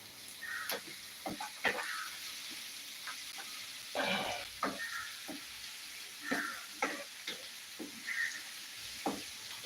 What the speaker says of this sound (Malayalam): അപ്പോൾ നമുക്ക് ഇപ്പൊ ഉള്ളി നന്നായിട്ടൊന്ന് ഇളക്കി കൊടുക്കാം